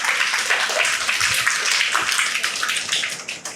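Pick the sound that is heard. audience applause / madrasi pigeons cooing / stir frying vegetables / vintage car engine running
audience applause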